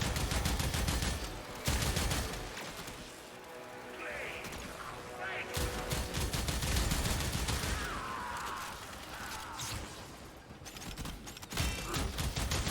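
Gunfire from Warframe shooting through a vault shield comes in loud bursts of rapid shots separated by short lulls, with a voice talking over parts of it.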